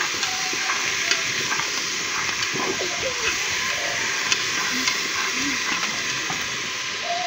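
A spoon stirs beans in a pot on a wood-fired stove, a continuous close sizzling hiss with soft scraping and occasional clinks, no talking.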